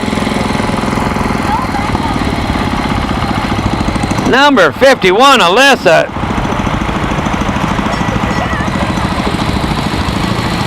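A small International Harvester tractor engine runs steadily with a rough, chugging idle throughout, briefly masked in the middle by a burst of loud wavering sound, while people talk nearby.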